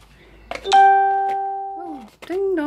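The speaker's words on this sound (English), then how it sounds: "Oh, ding dong." A two-tone doorbell-style ding-dong notification chime rings out clearly and loudly, its tones sustaining and slowly fading, with brief speech just before and after it.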